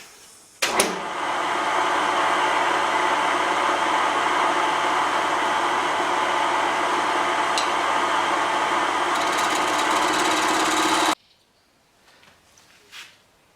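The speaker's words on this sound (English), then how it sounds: "the lathe speed is set to 570, that's the lowest on this Minimax." A Minimax wood lathe runs at its lowest speed of 570 while a multicoloured ring is turned: a steady, broad whirring hum that starts with a clunk, holds evenly for about ten seconds, then cuts off.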